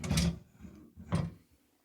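A drawer in a hotel room at the Best Western Glasgow slides open or shut twice in quick succession, two close, moderately loud scraping thuds in a quiet room.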